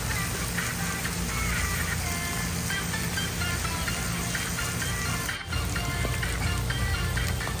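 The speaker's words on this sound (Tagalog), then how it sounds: "inigisa po ang ating minced beef, ang ating bawang, ang ating sibuyas together with our hotdog" Minced beef, garlic, onion and sliced hotdog sautéing in a pan for Filipino-style spaghetti, a steady loud sizzle and crackle running throughout with little variation.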